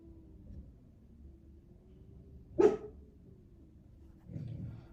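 A single sharp bark from a pet dog rings out in a quiet room, fairly close but not loud, followed a couple of seconds later by a softer low grumble.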